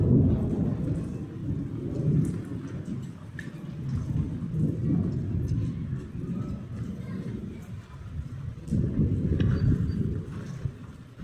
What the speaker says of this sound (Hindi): तो बहुत ज़्यादा बरसात आने लगी।